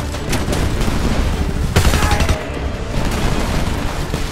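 Loud, dense gunfire from a firefight in Homefront, with a continuous rattle of shots and a heavier boom about midway.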